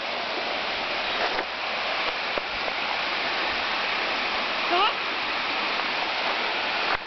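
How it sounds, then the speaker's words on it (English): Waterfall at Colorado Bend State Park in Texas, a steady close rush of falling water filling the whole stretch, with a brief whistle-like sweep and faint background sounds over the constant roar. "film a little video so we can hear the waterfall."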